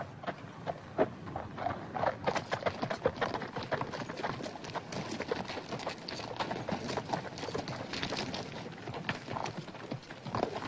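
Steady clip-clop of horse hooves, many overlapping beats at a moderate pace, fairly faint and continuous with no talking.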